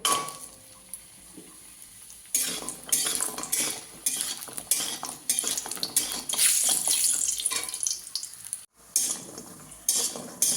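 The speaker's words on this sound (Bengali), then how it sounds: "কড়াইতে সর্ষের তেল দিয়েছি, তেলটা গরম হয়ে গেছে। এবার বড়িগুলো ভেজে নেব।" Lentil badi frying in hot mustard oil in a wok, with repeated metal clinks and scrapes from stirring over a steady hiss, close and fairly loud.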